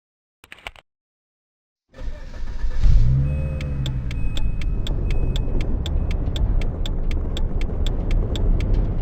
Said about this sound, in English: Start your vehicle and take a right out of this parking lot.